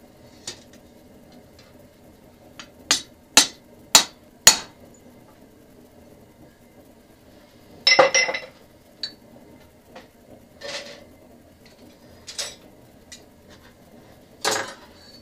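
Quarter-inch steel stock being cut hot on an anvil: a quick run of four sharp metallic strikes, then scattered, softer clinks and taps spaced out over the rest, fairly close with a quiet background.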